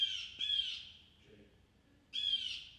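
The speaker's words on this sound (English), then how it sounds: "Blue jay." Played recording of a blue jay calling: two harsh, loud squawking cries separated by a short pause, clear and close, with no talk over them.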